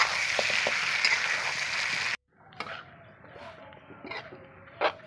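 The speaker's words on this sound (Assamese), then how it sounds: "হাঁহ মাংস বহুত সময় ভাজিব লাগে।" Duck meat with potatoes frying in oil in a home Assamese duck curry: a dense, close sizzle for about two seconds that cuts off abruptly, followed by quieter pan sounds with a few light clinks.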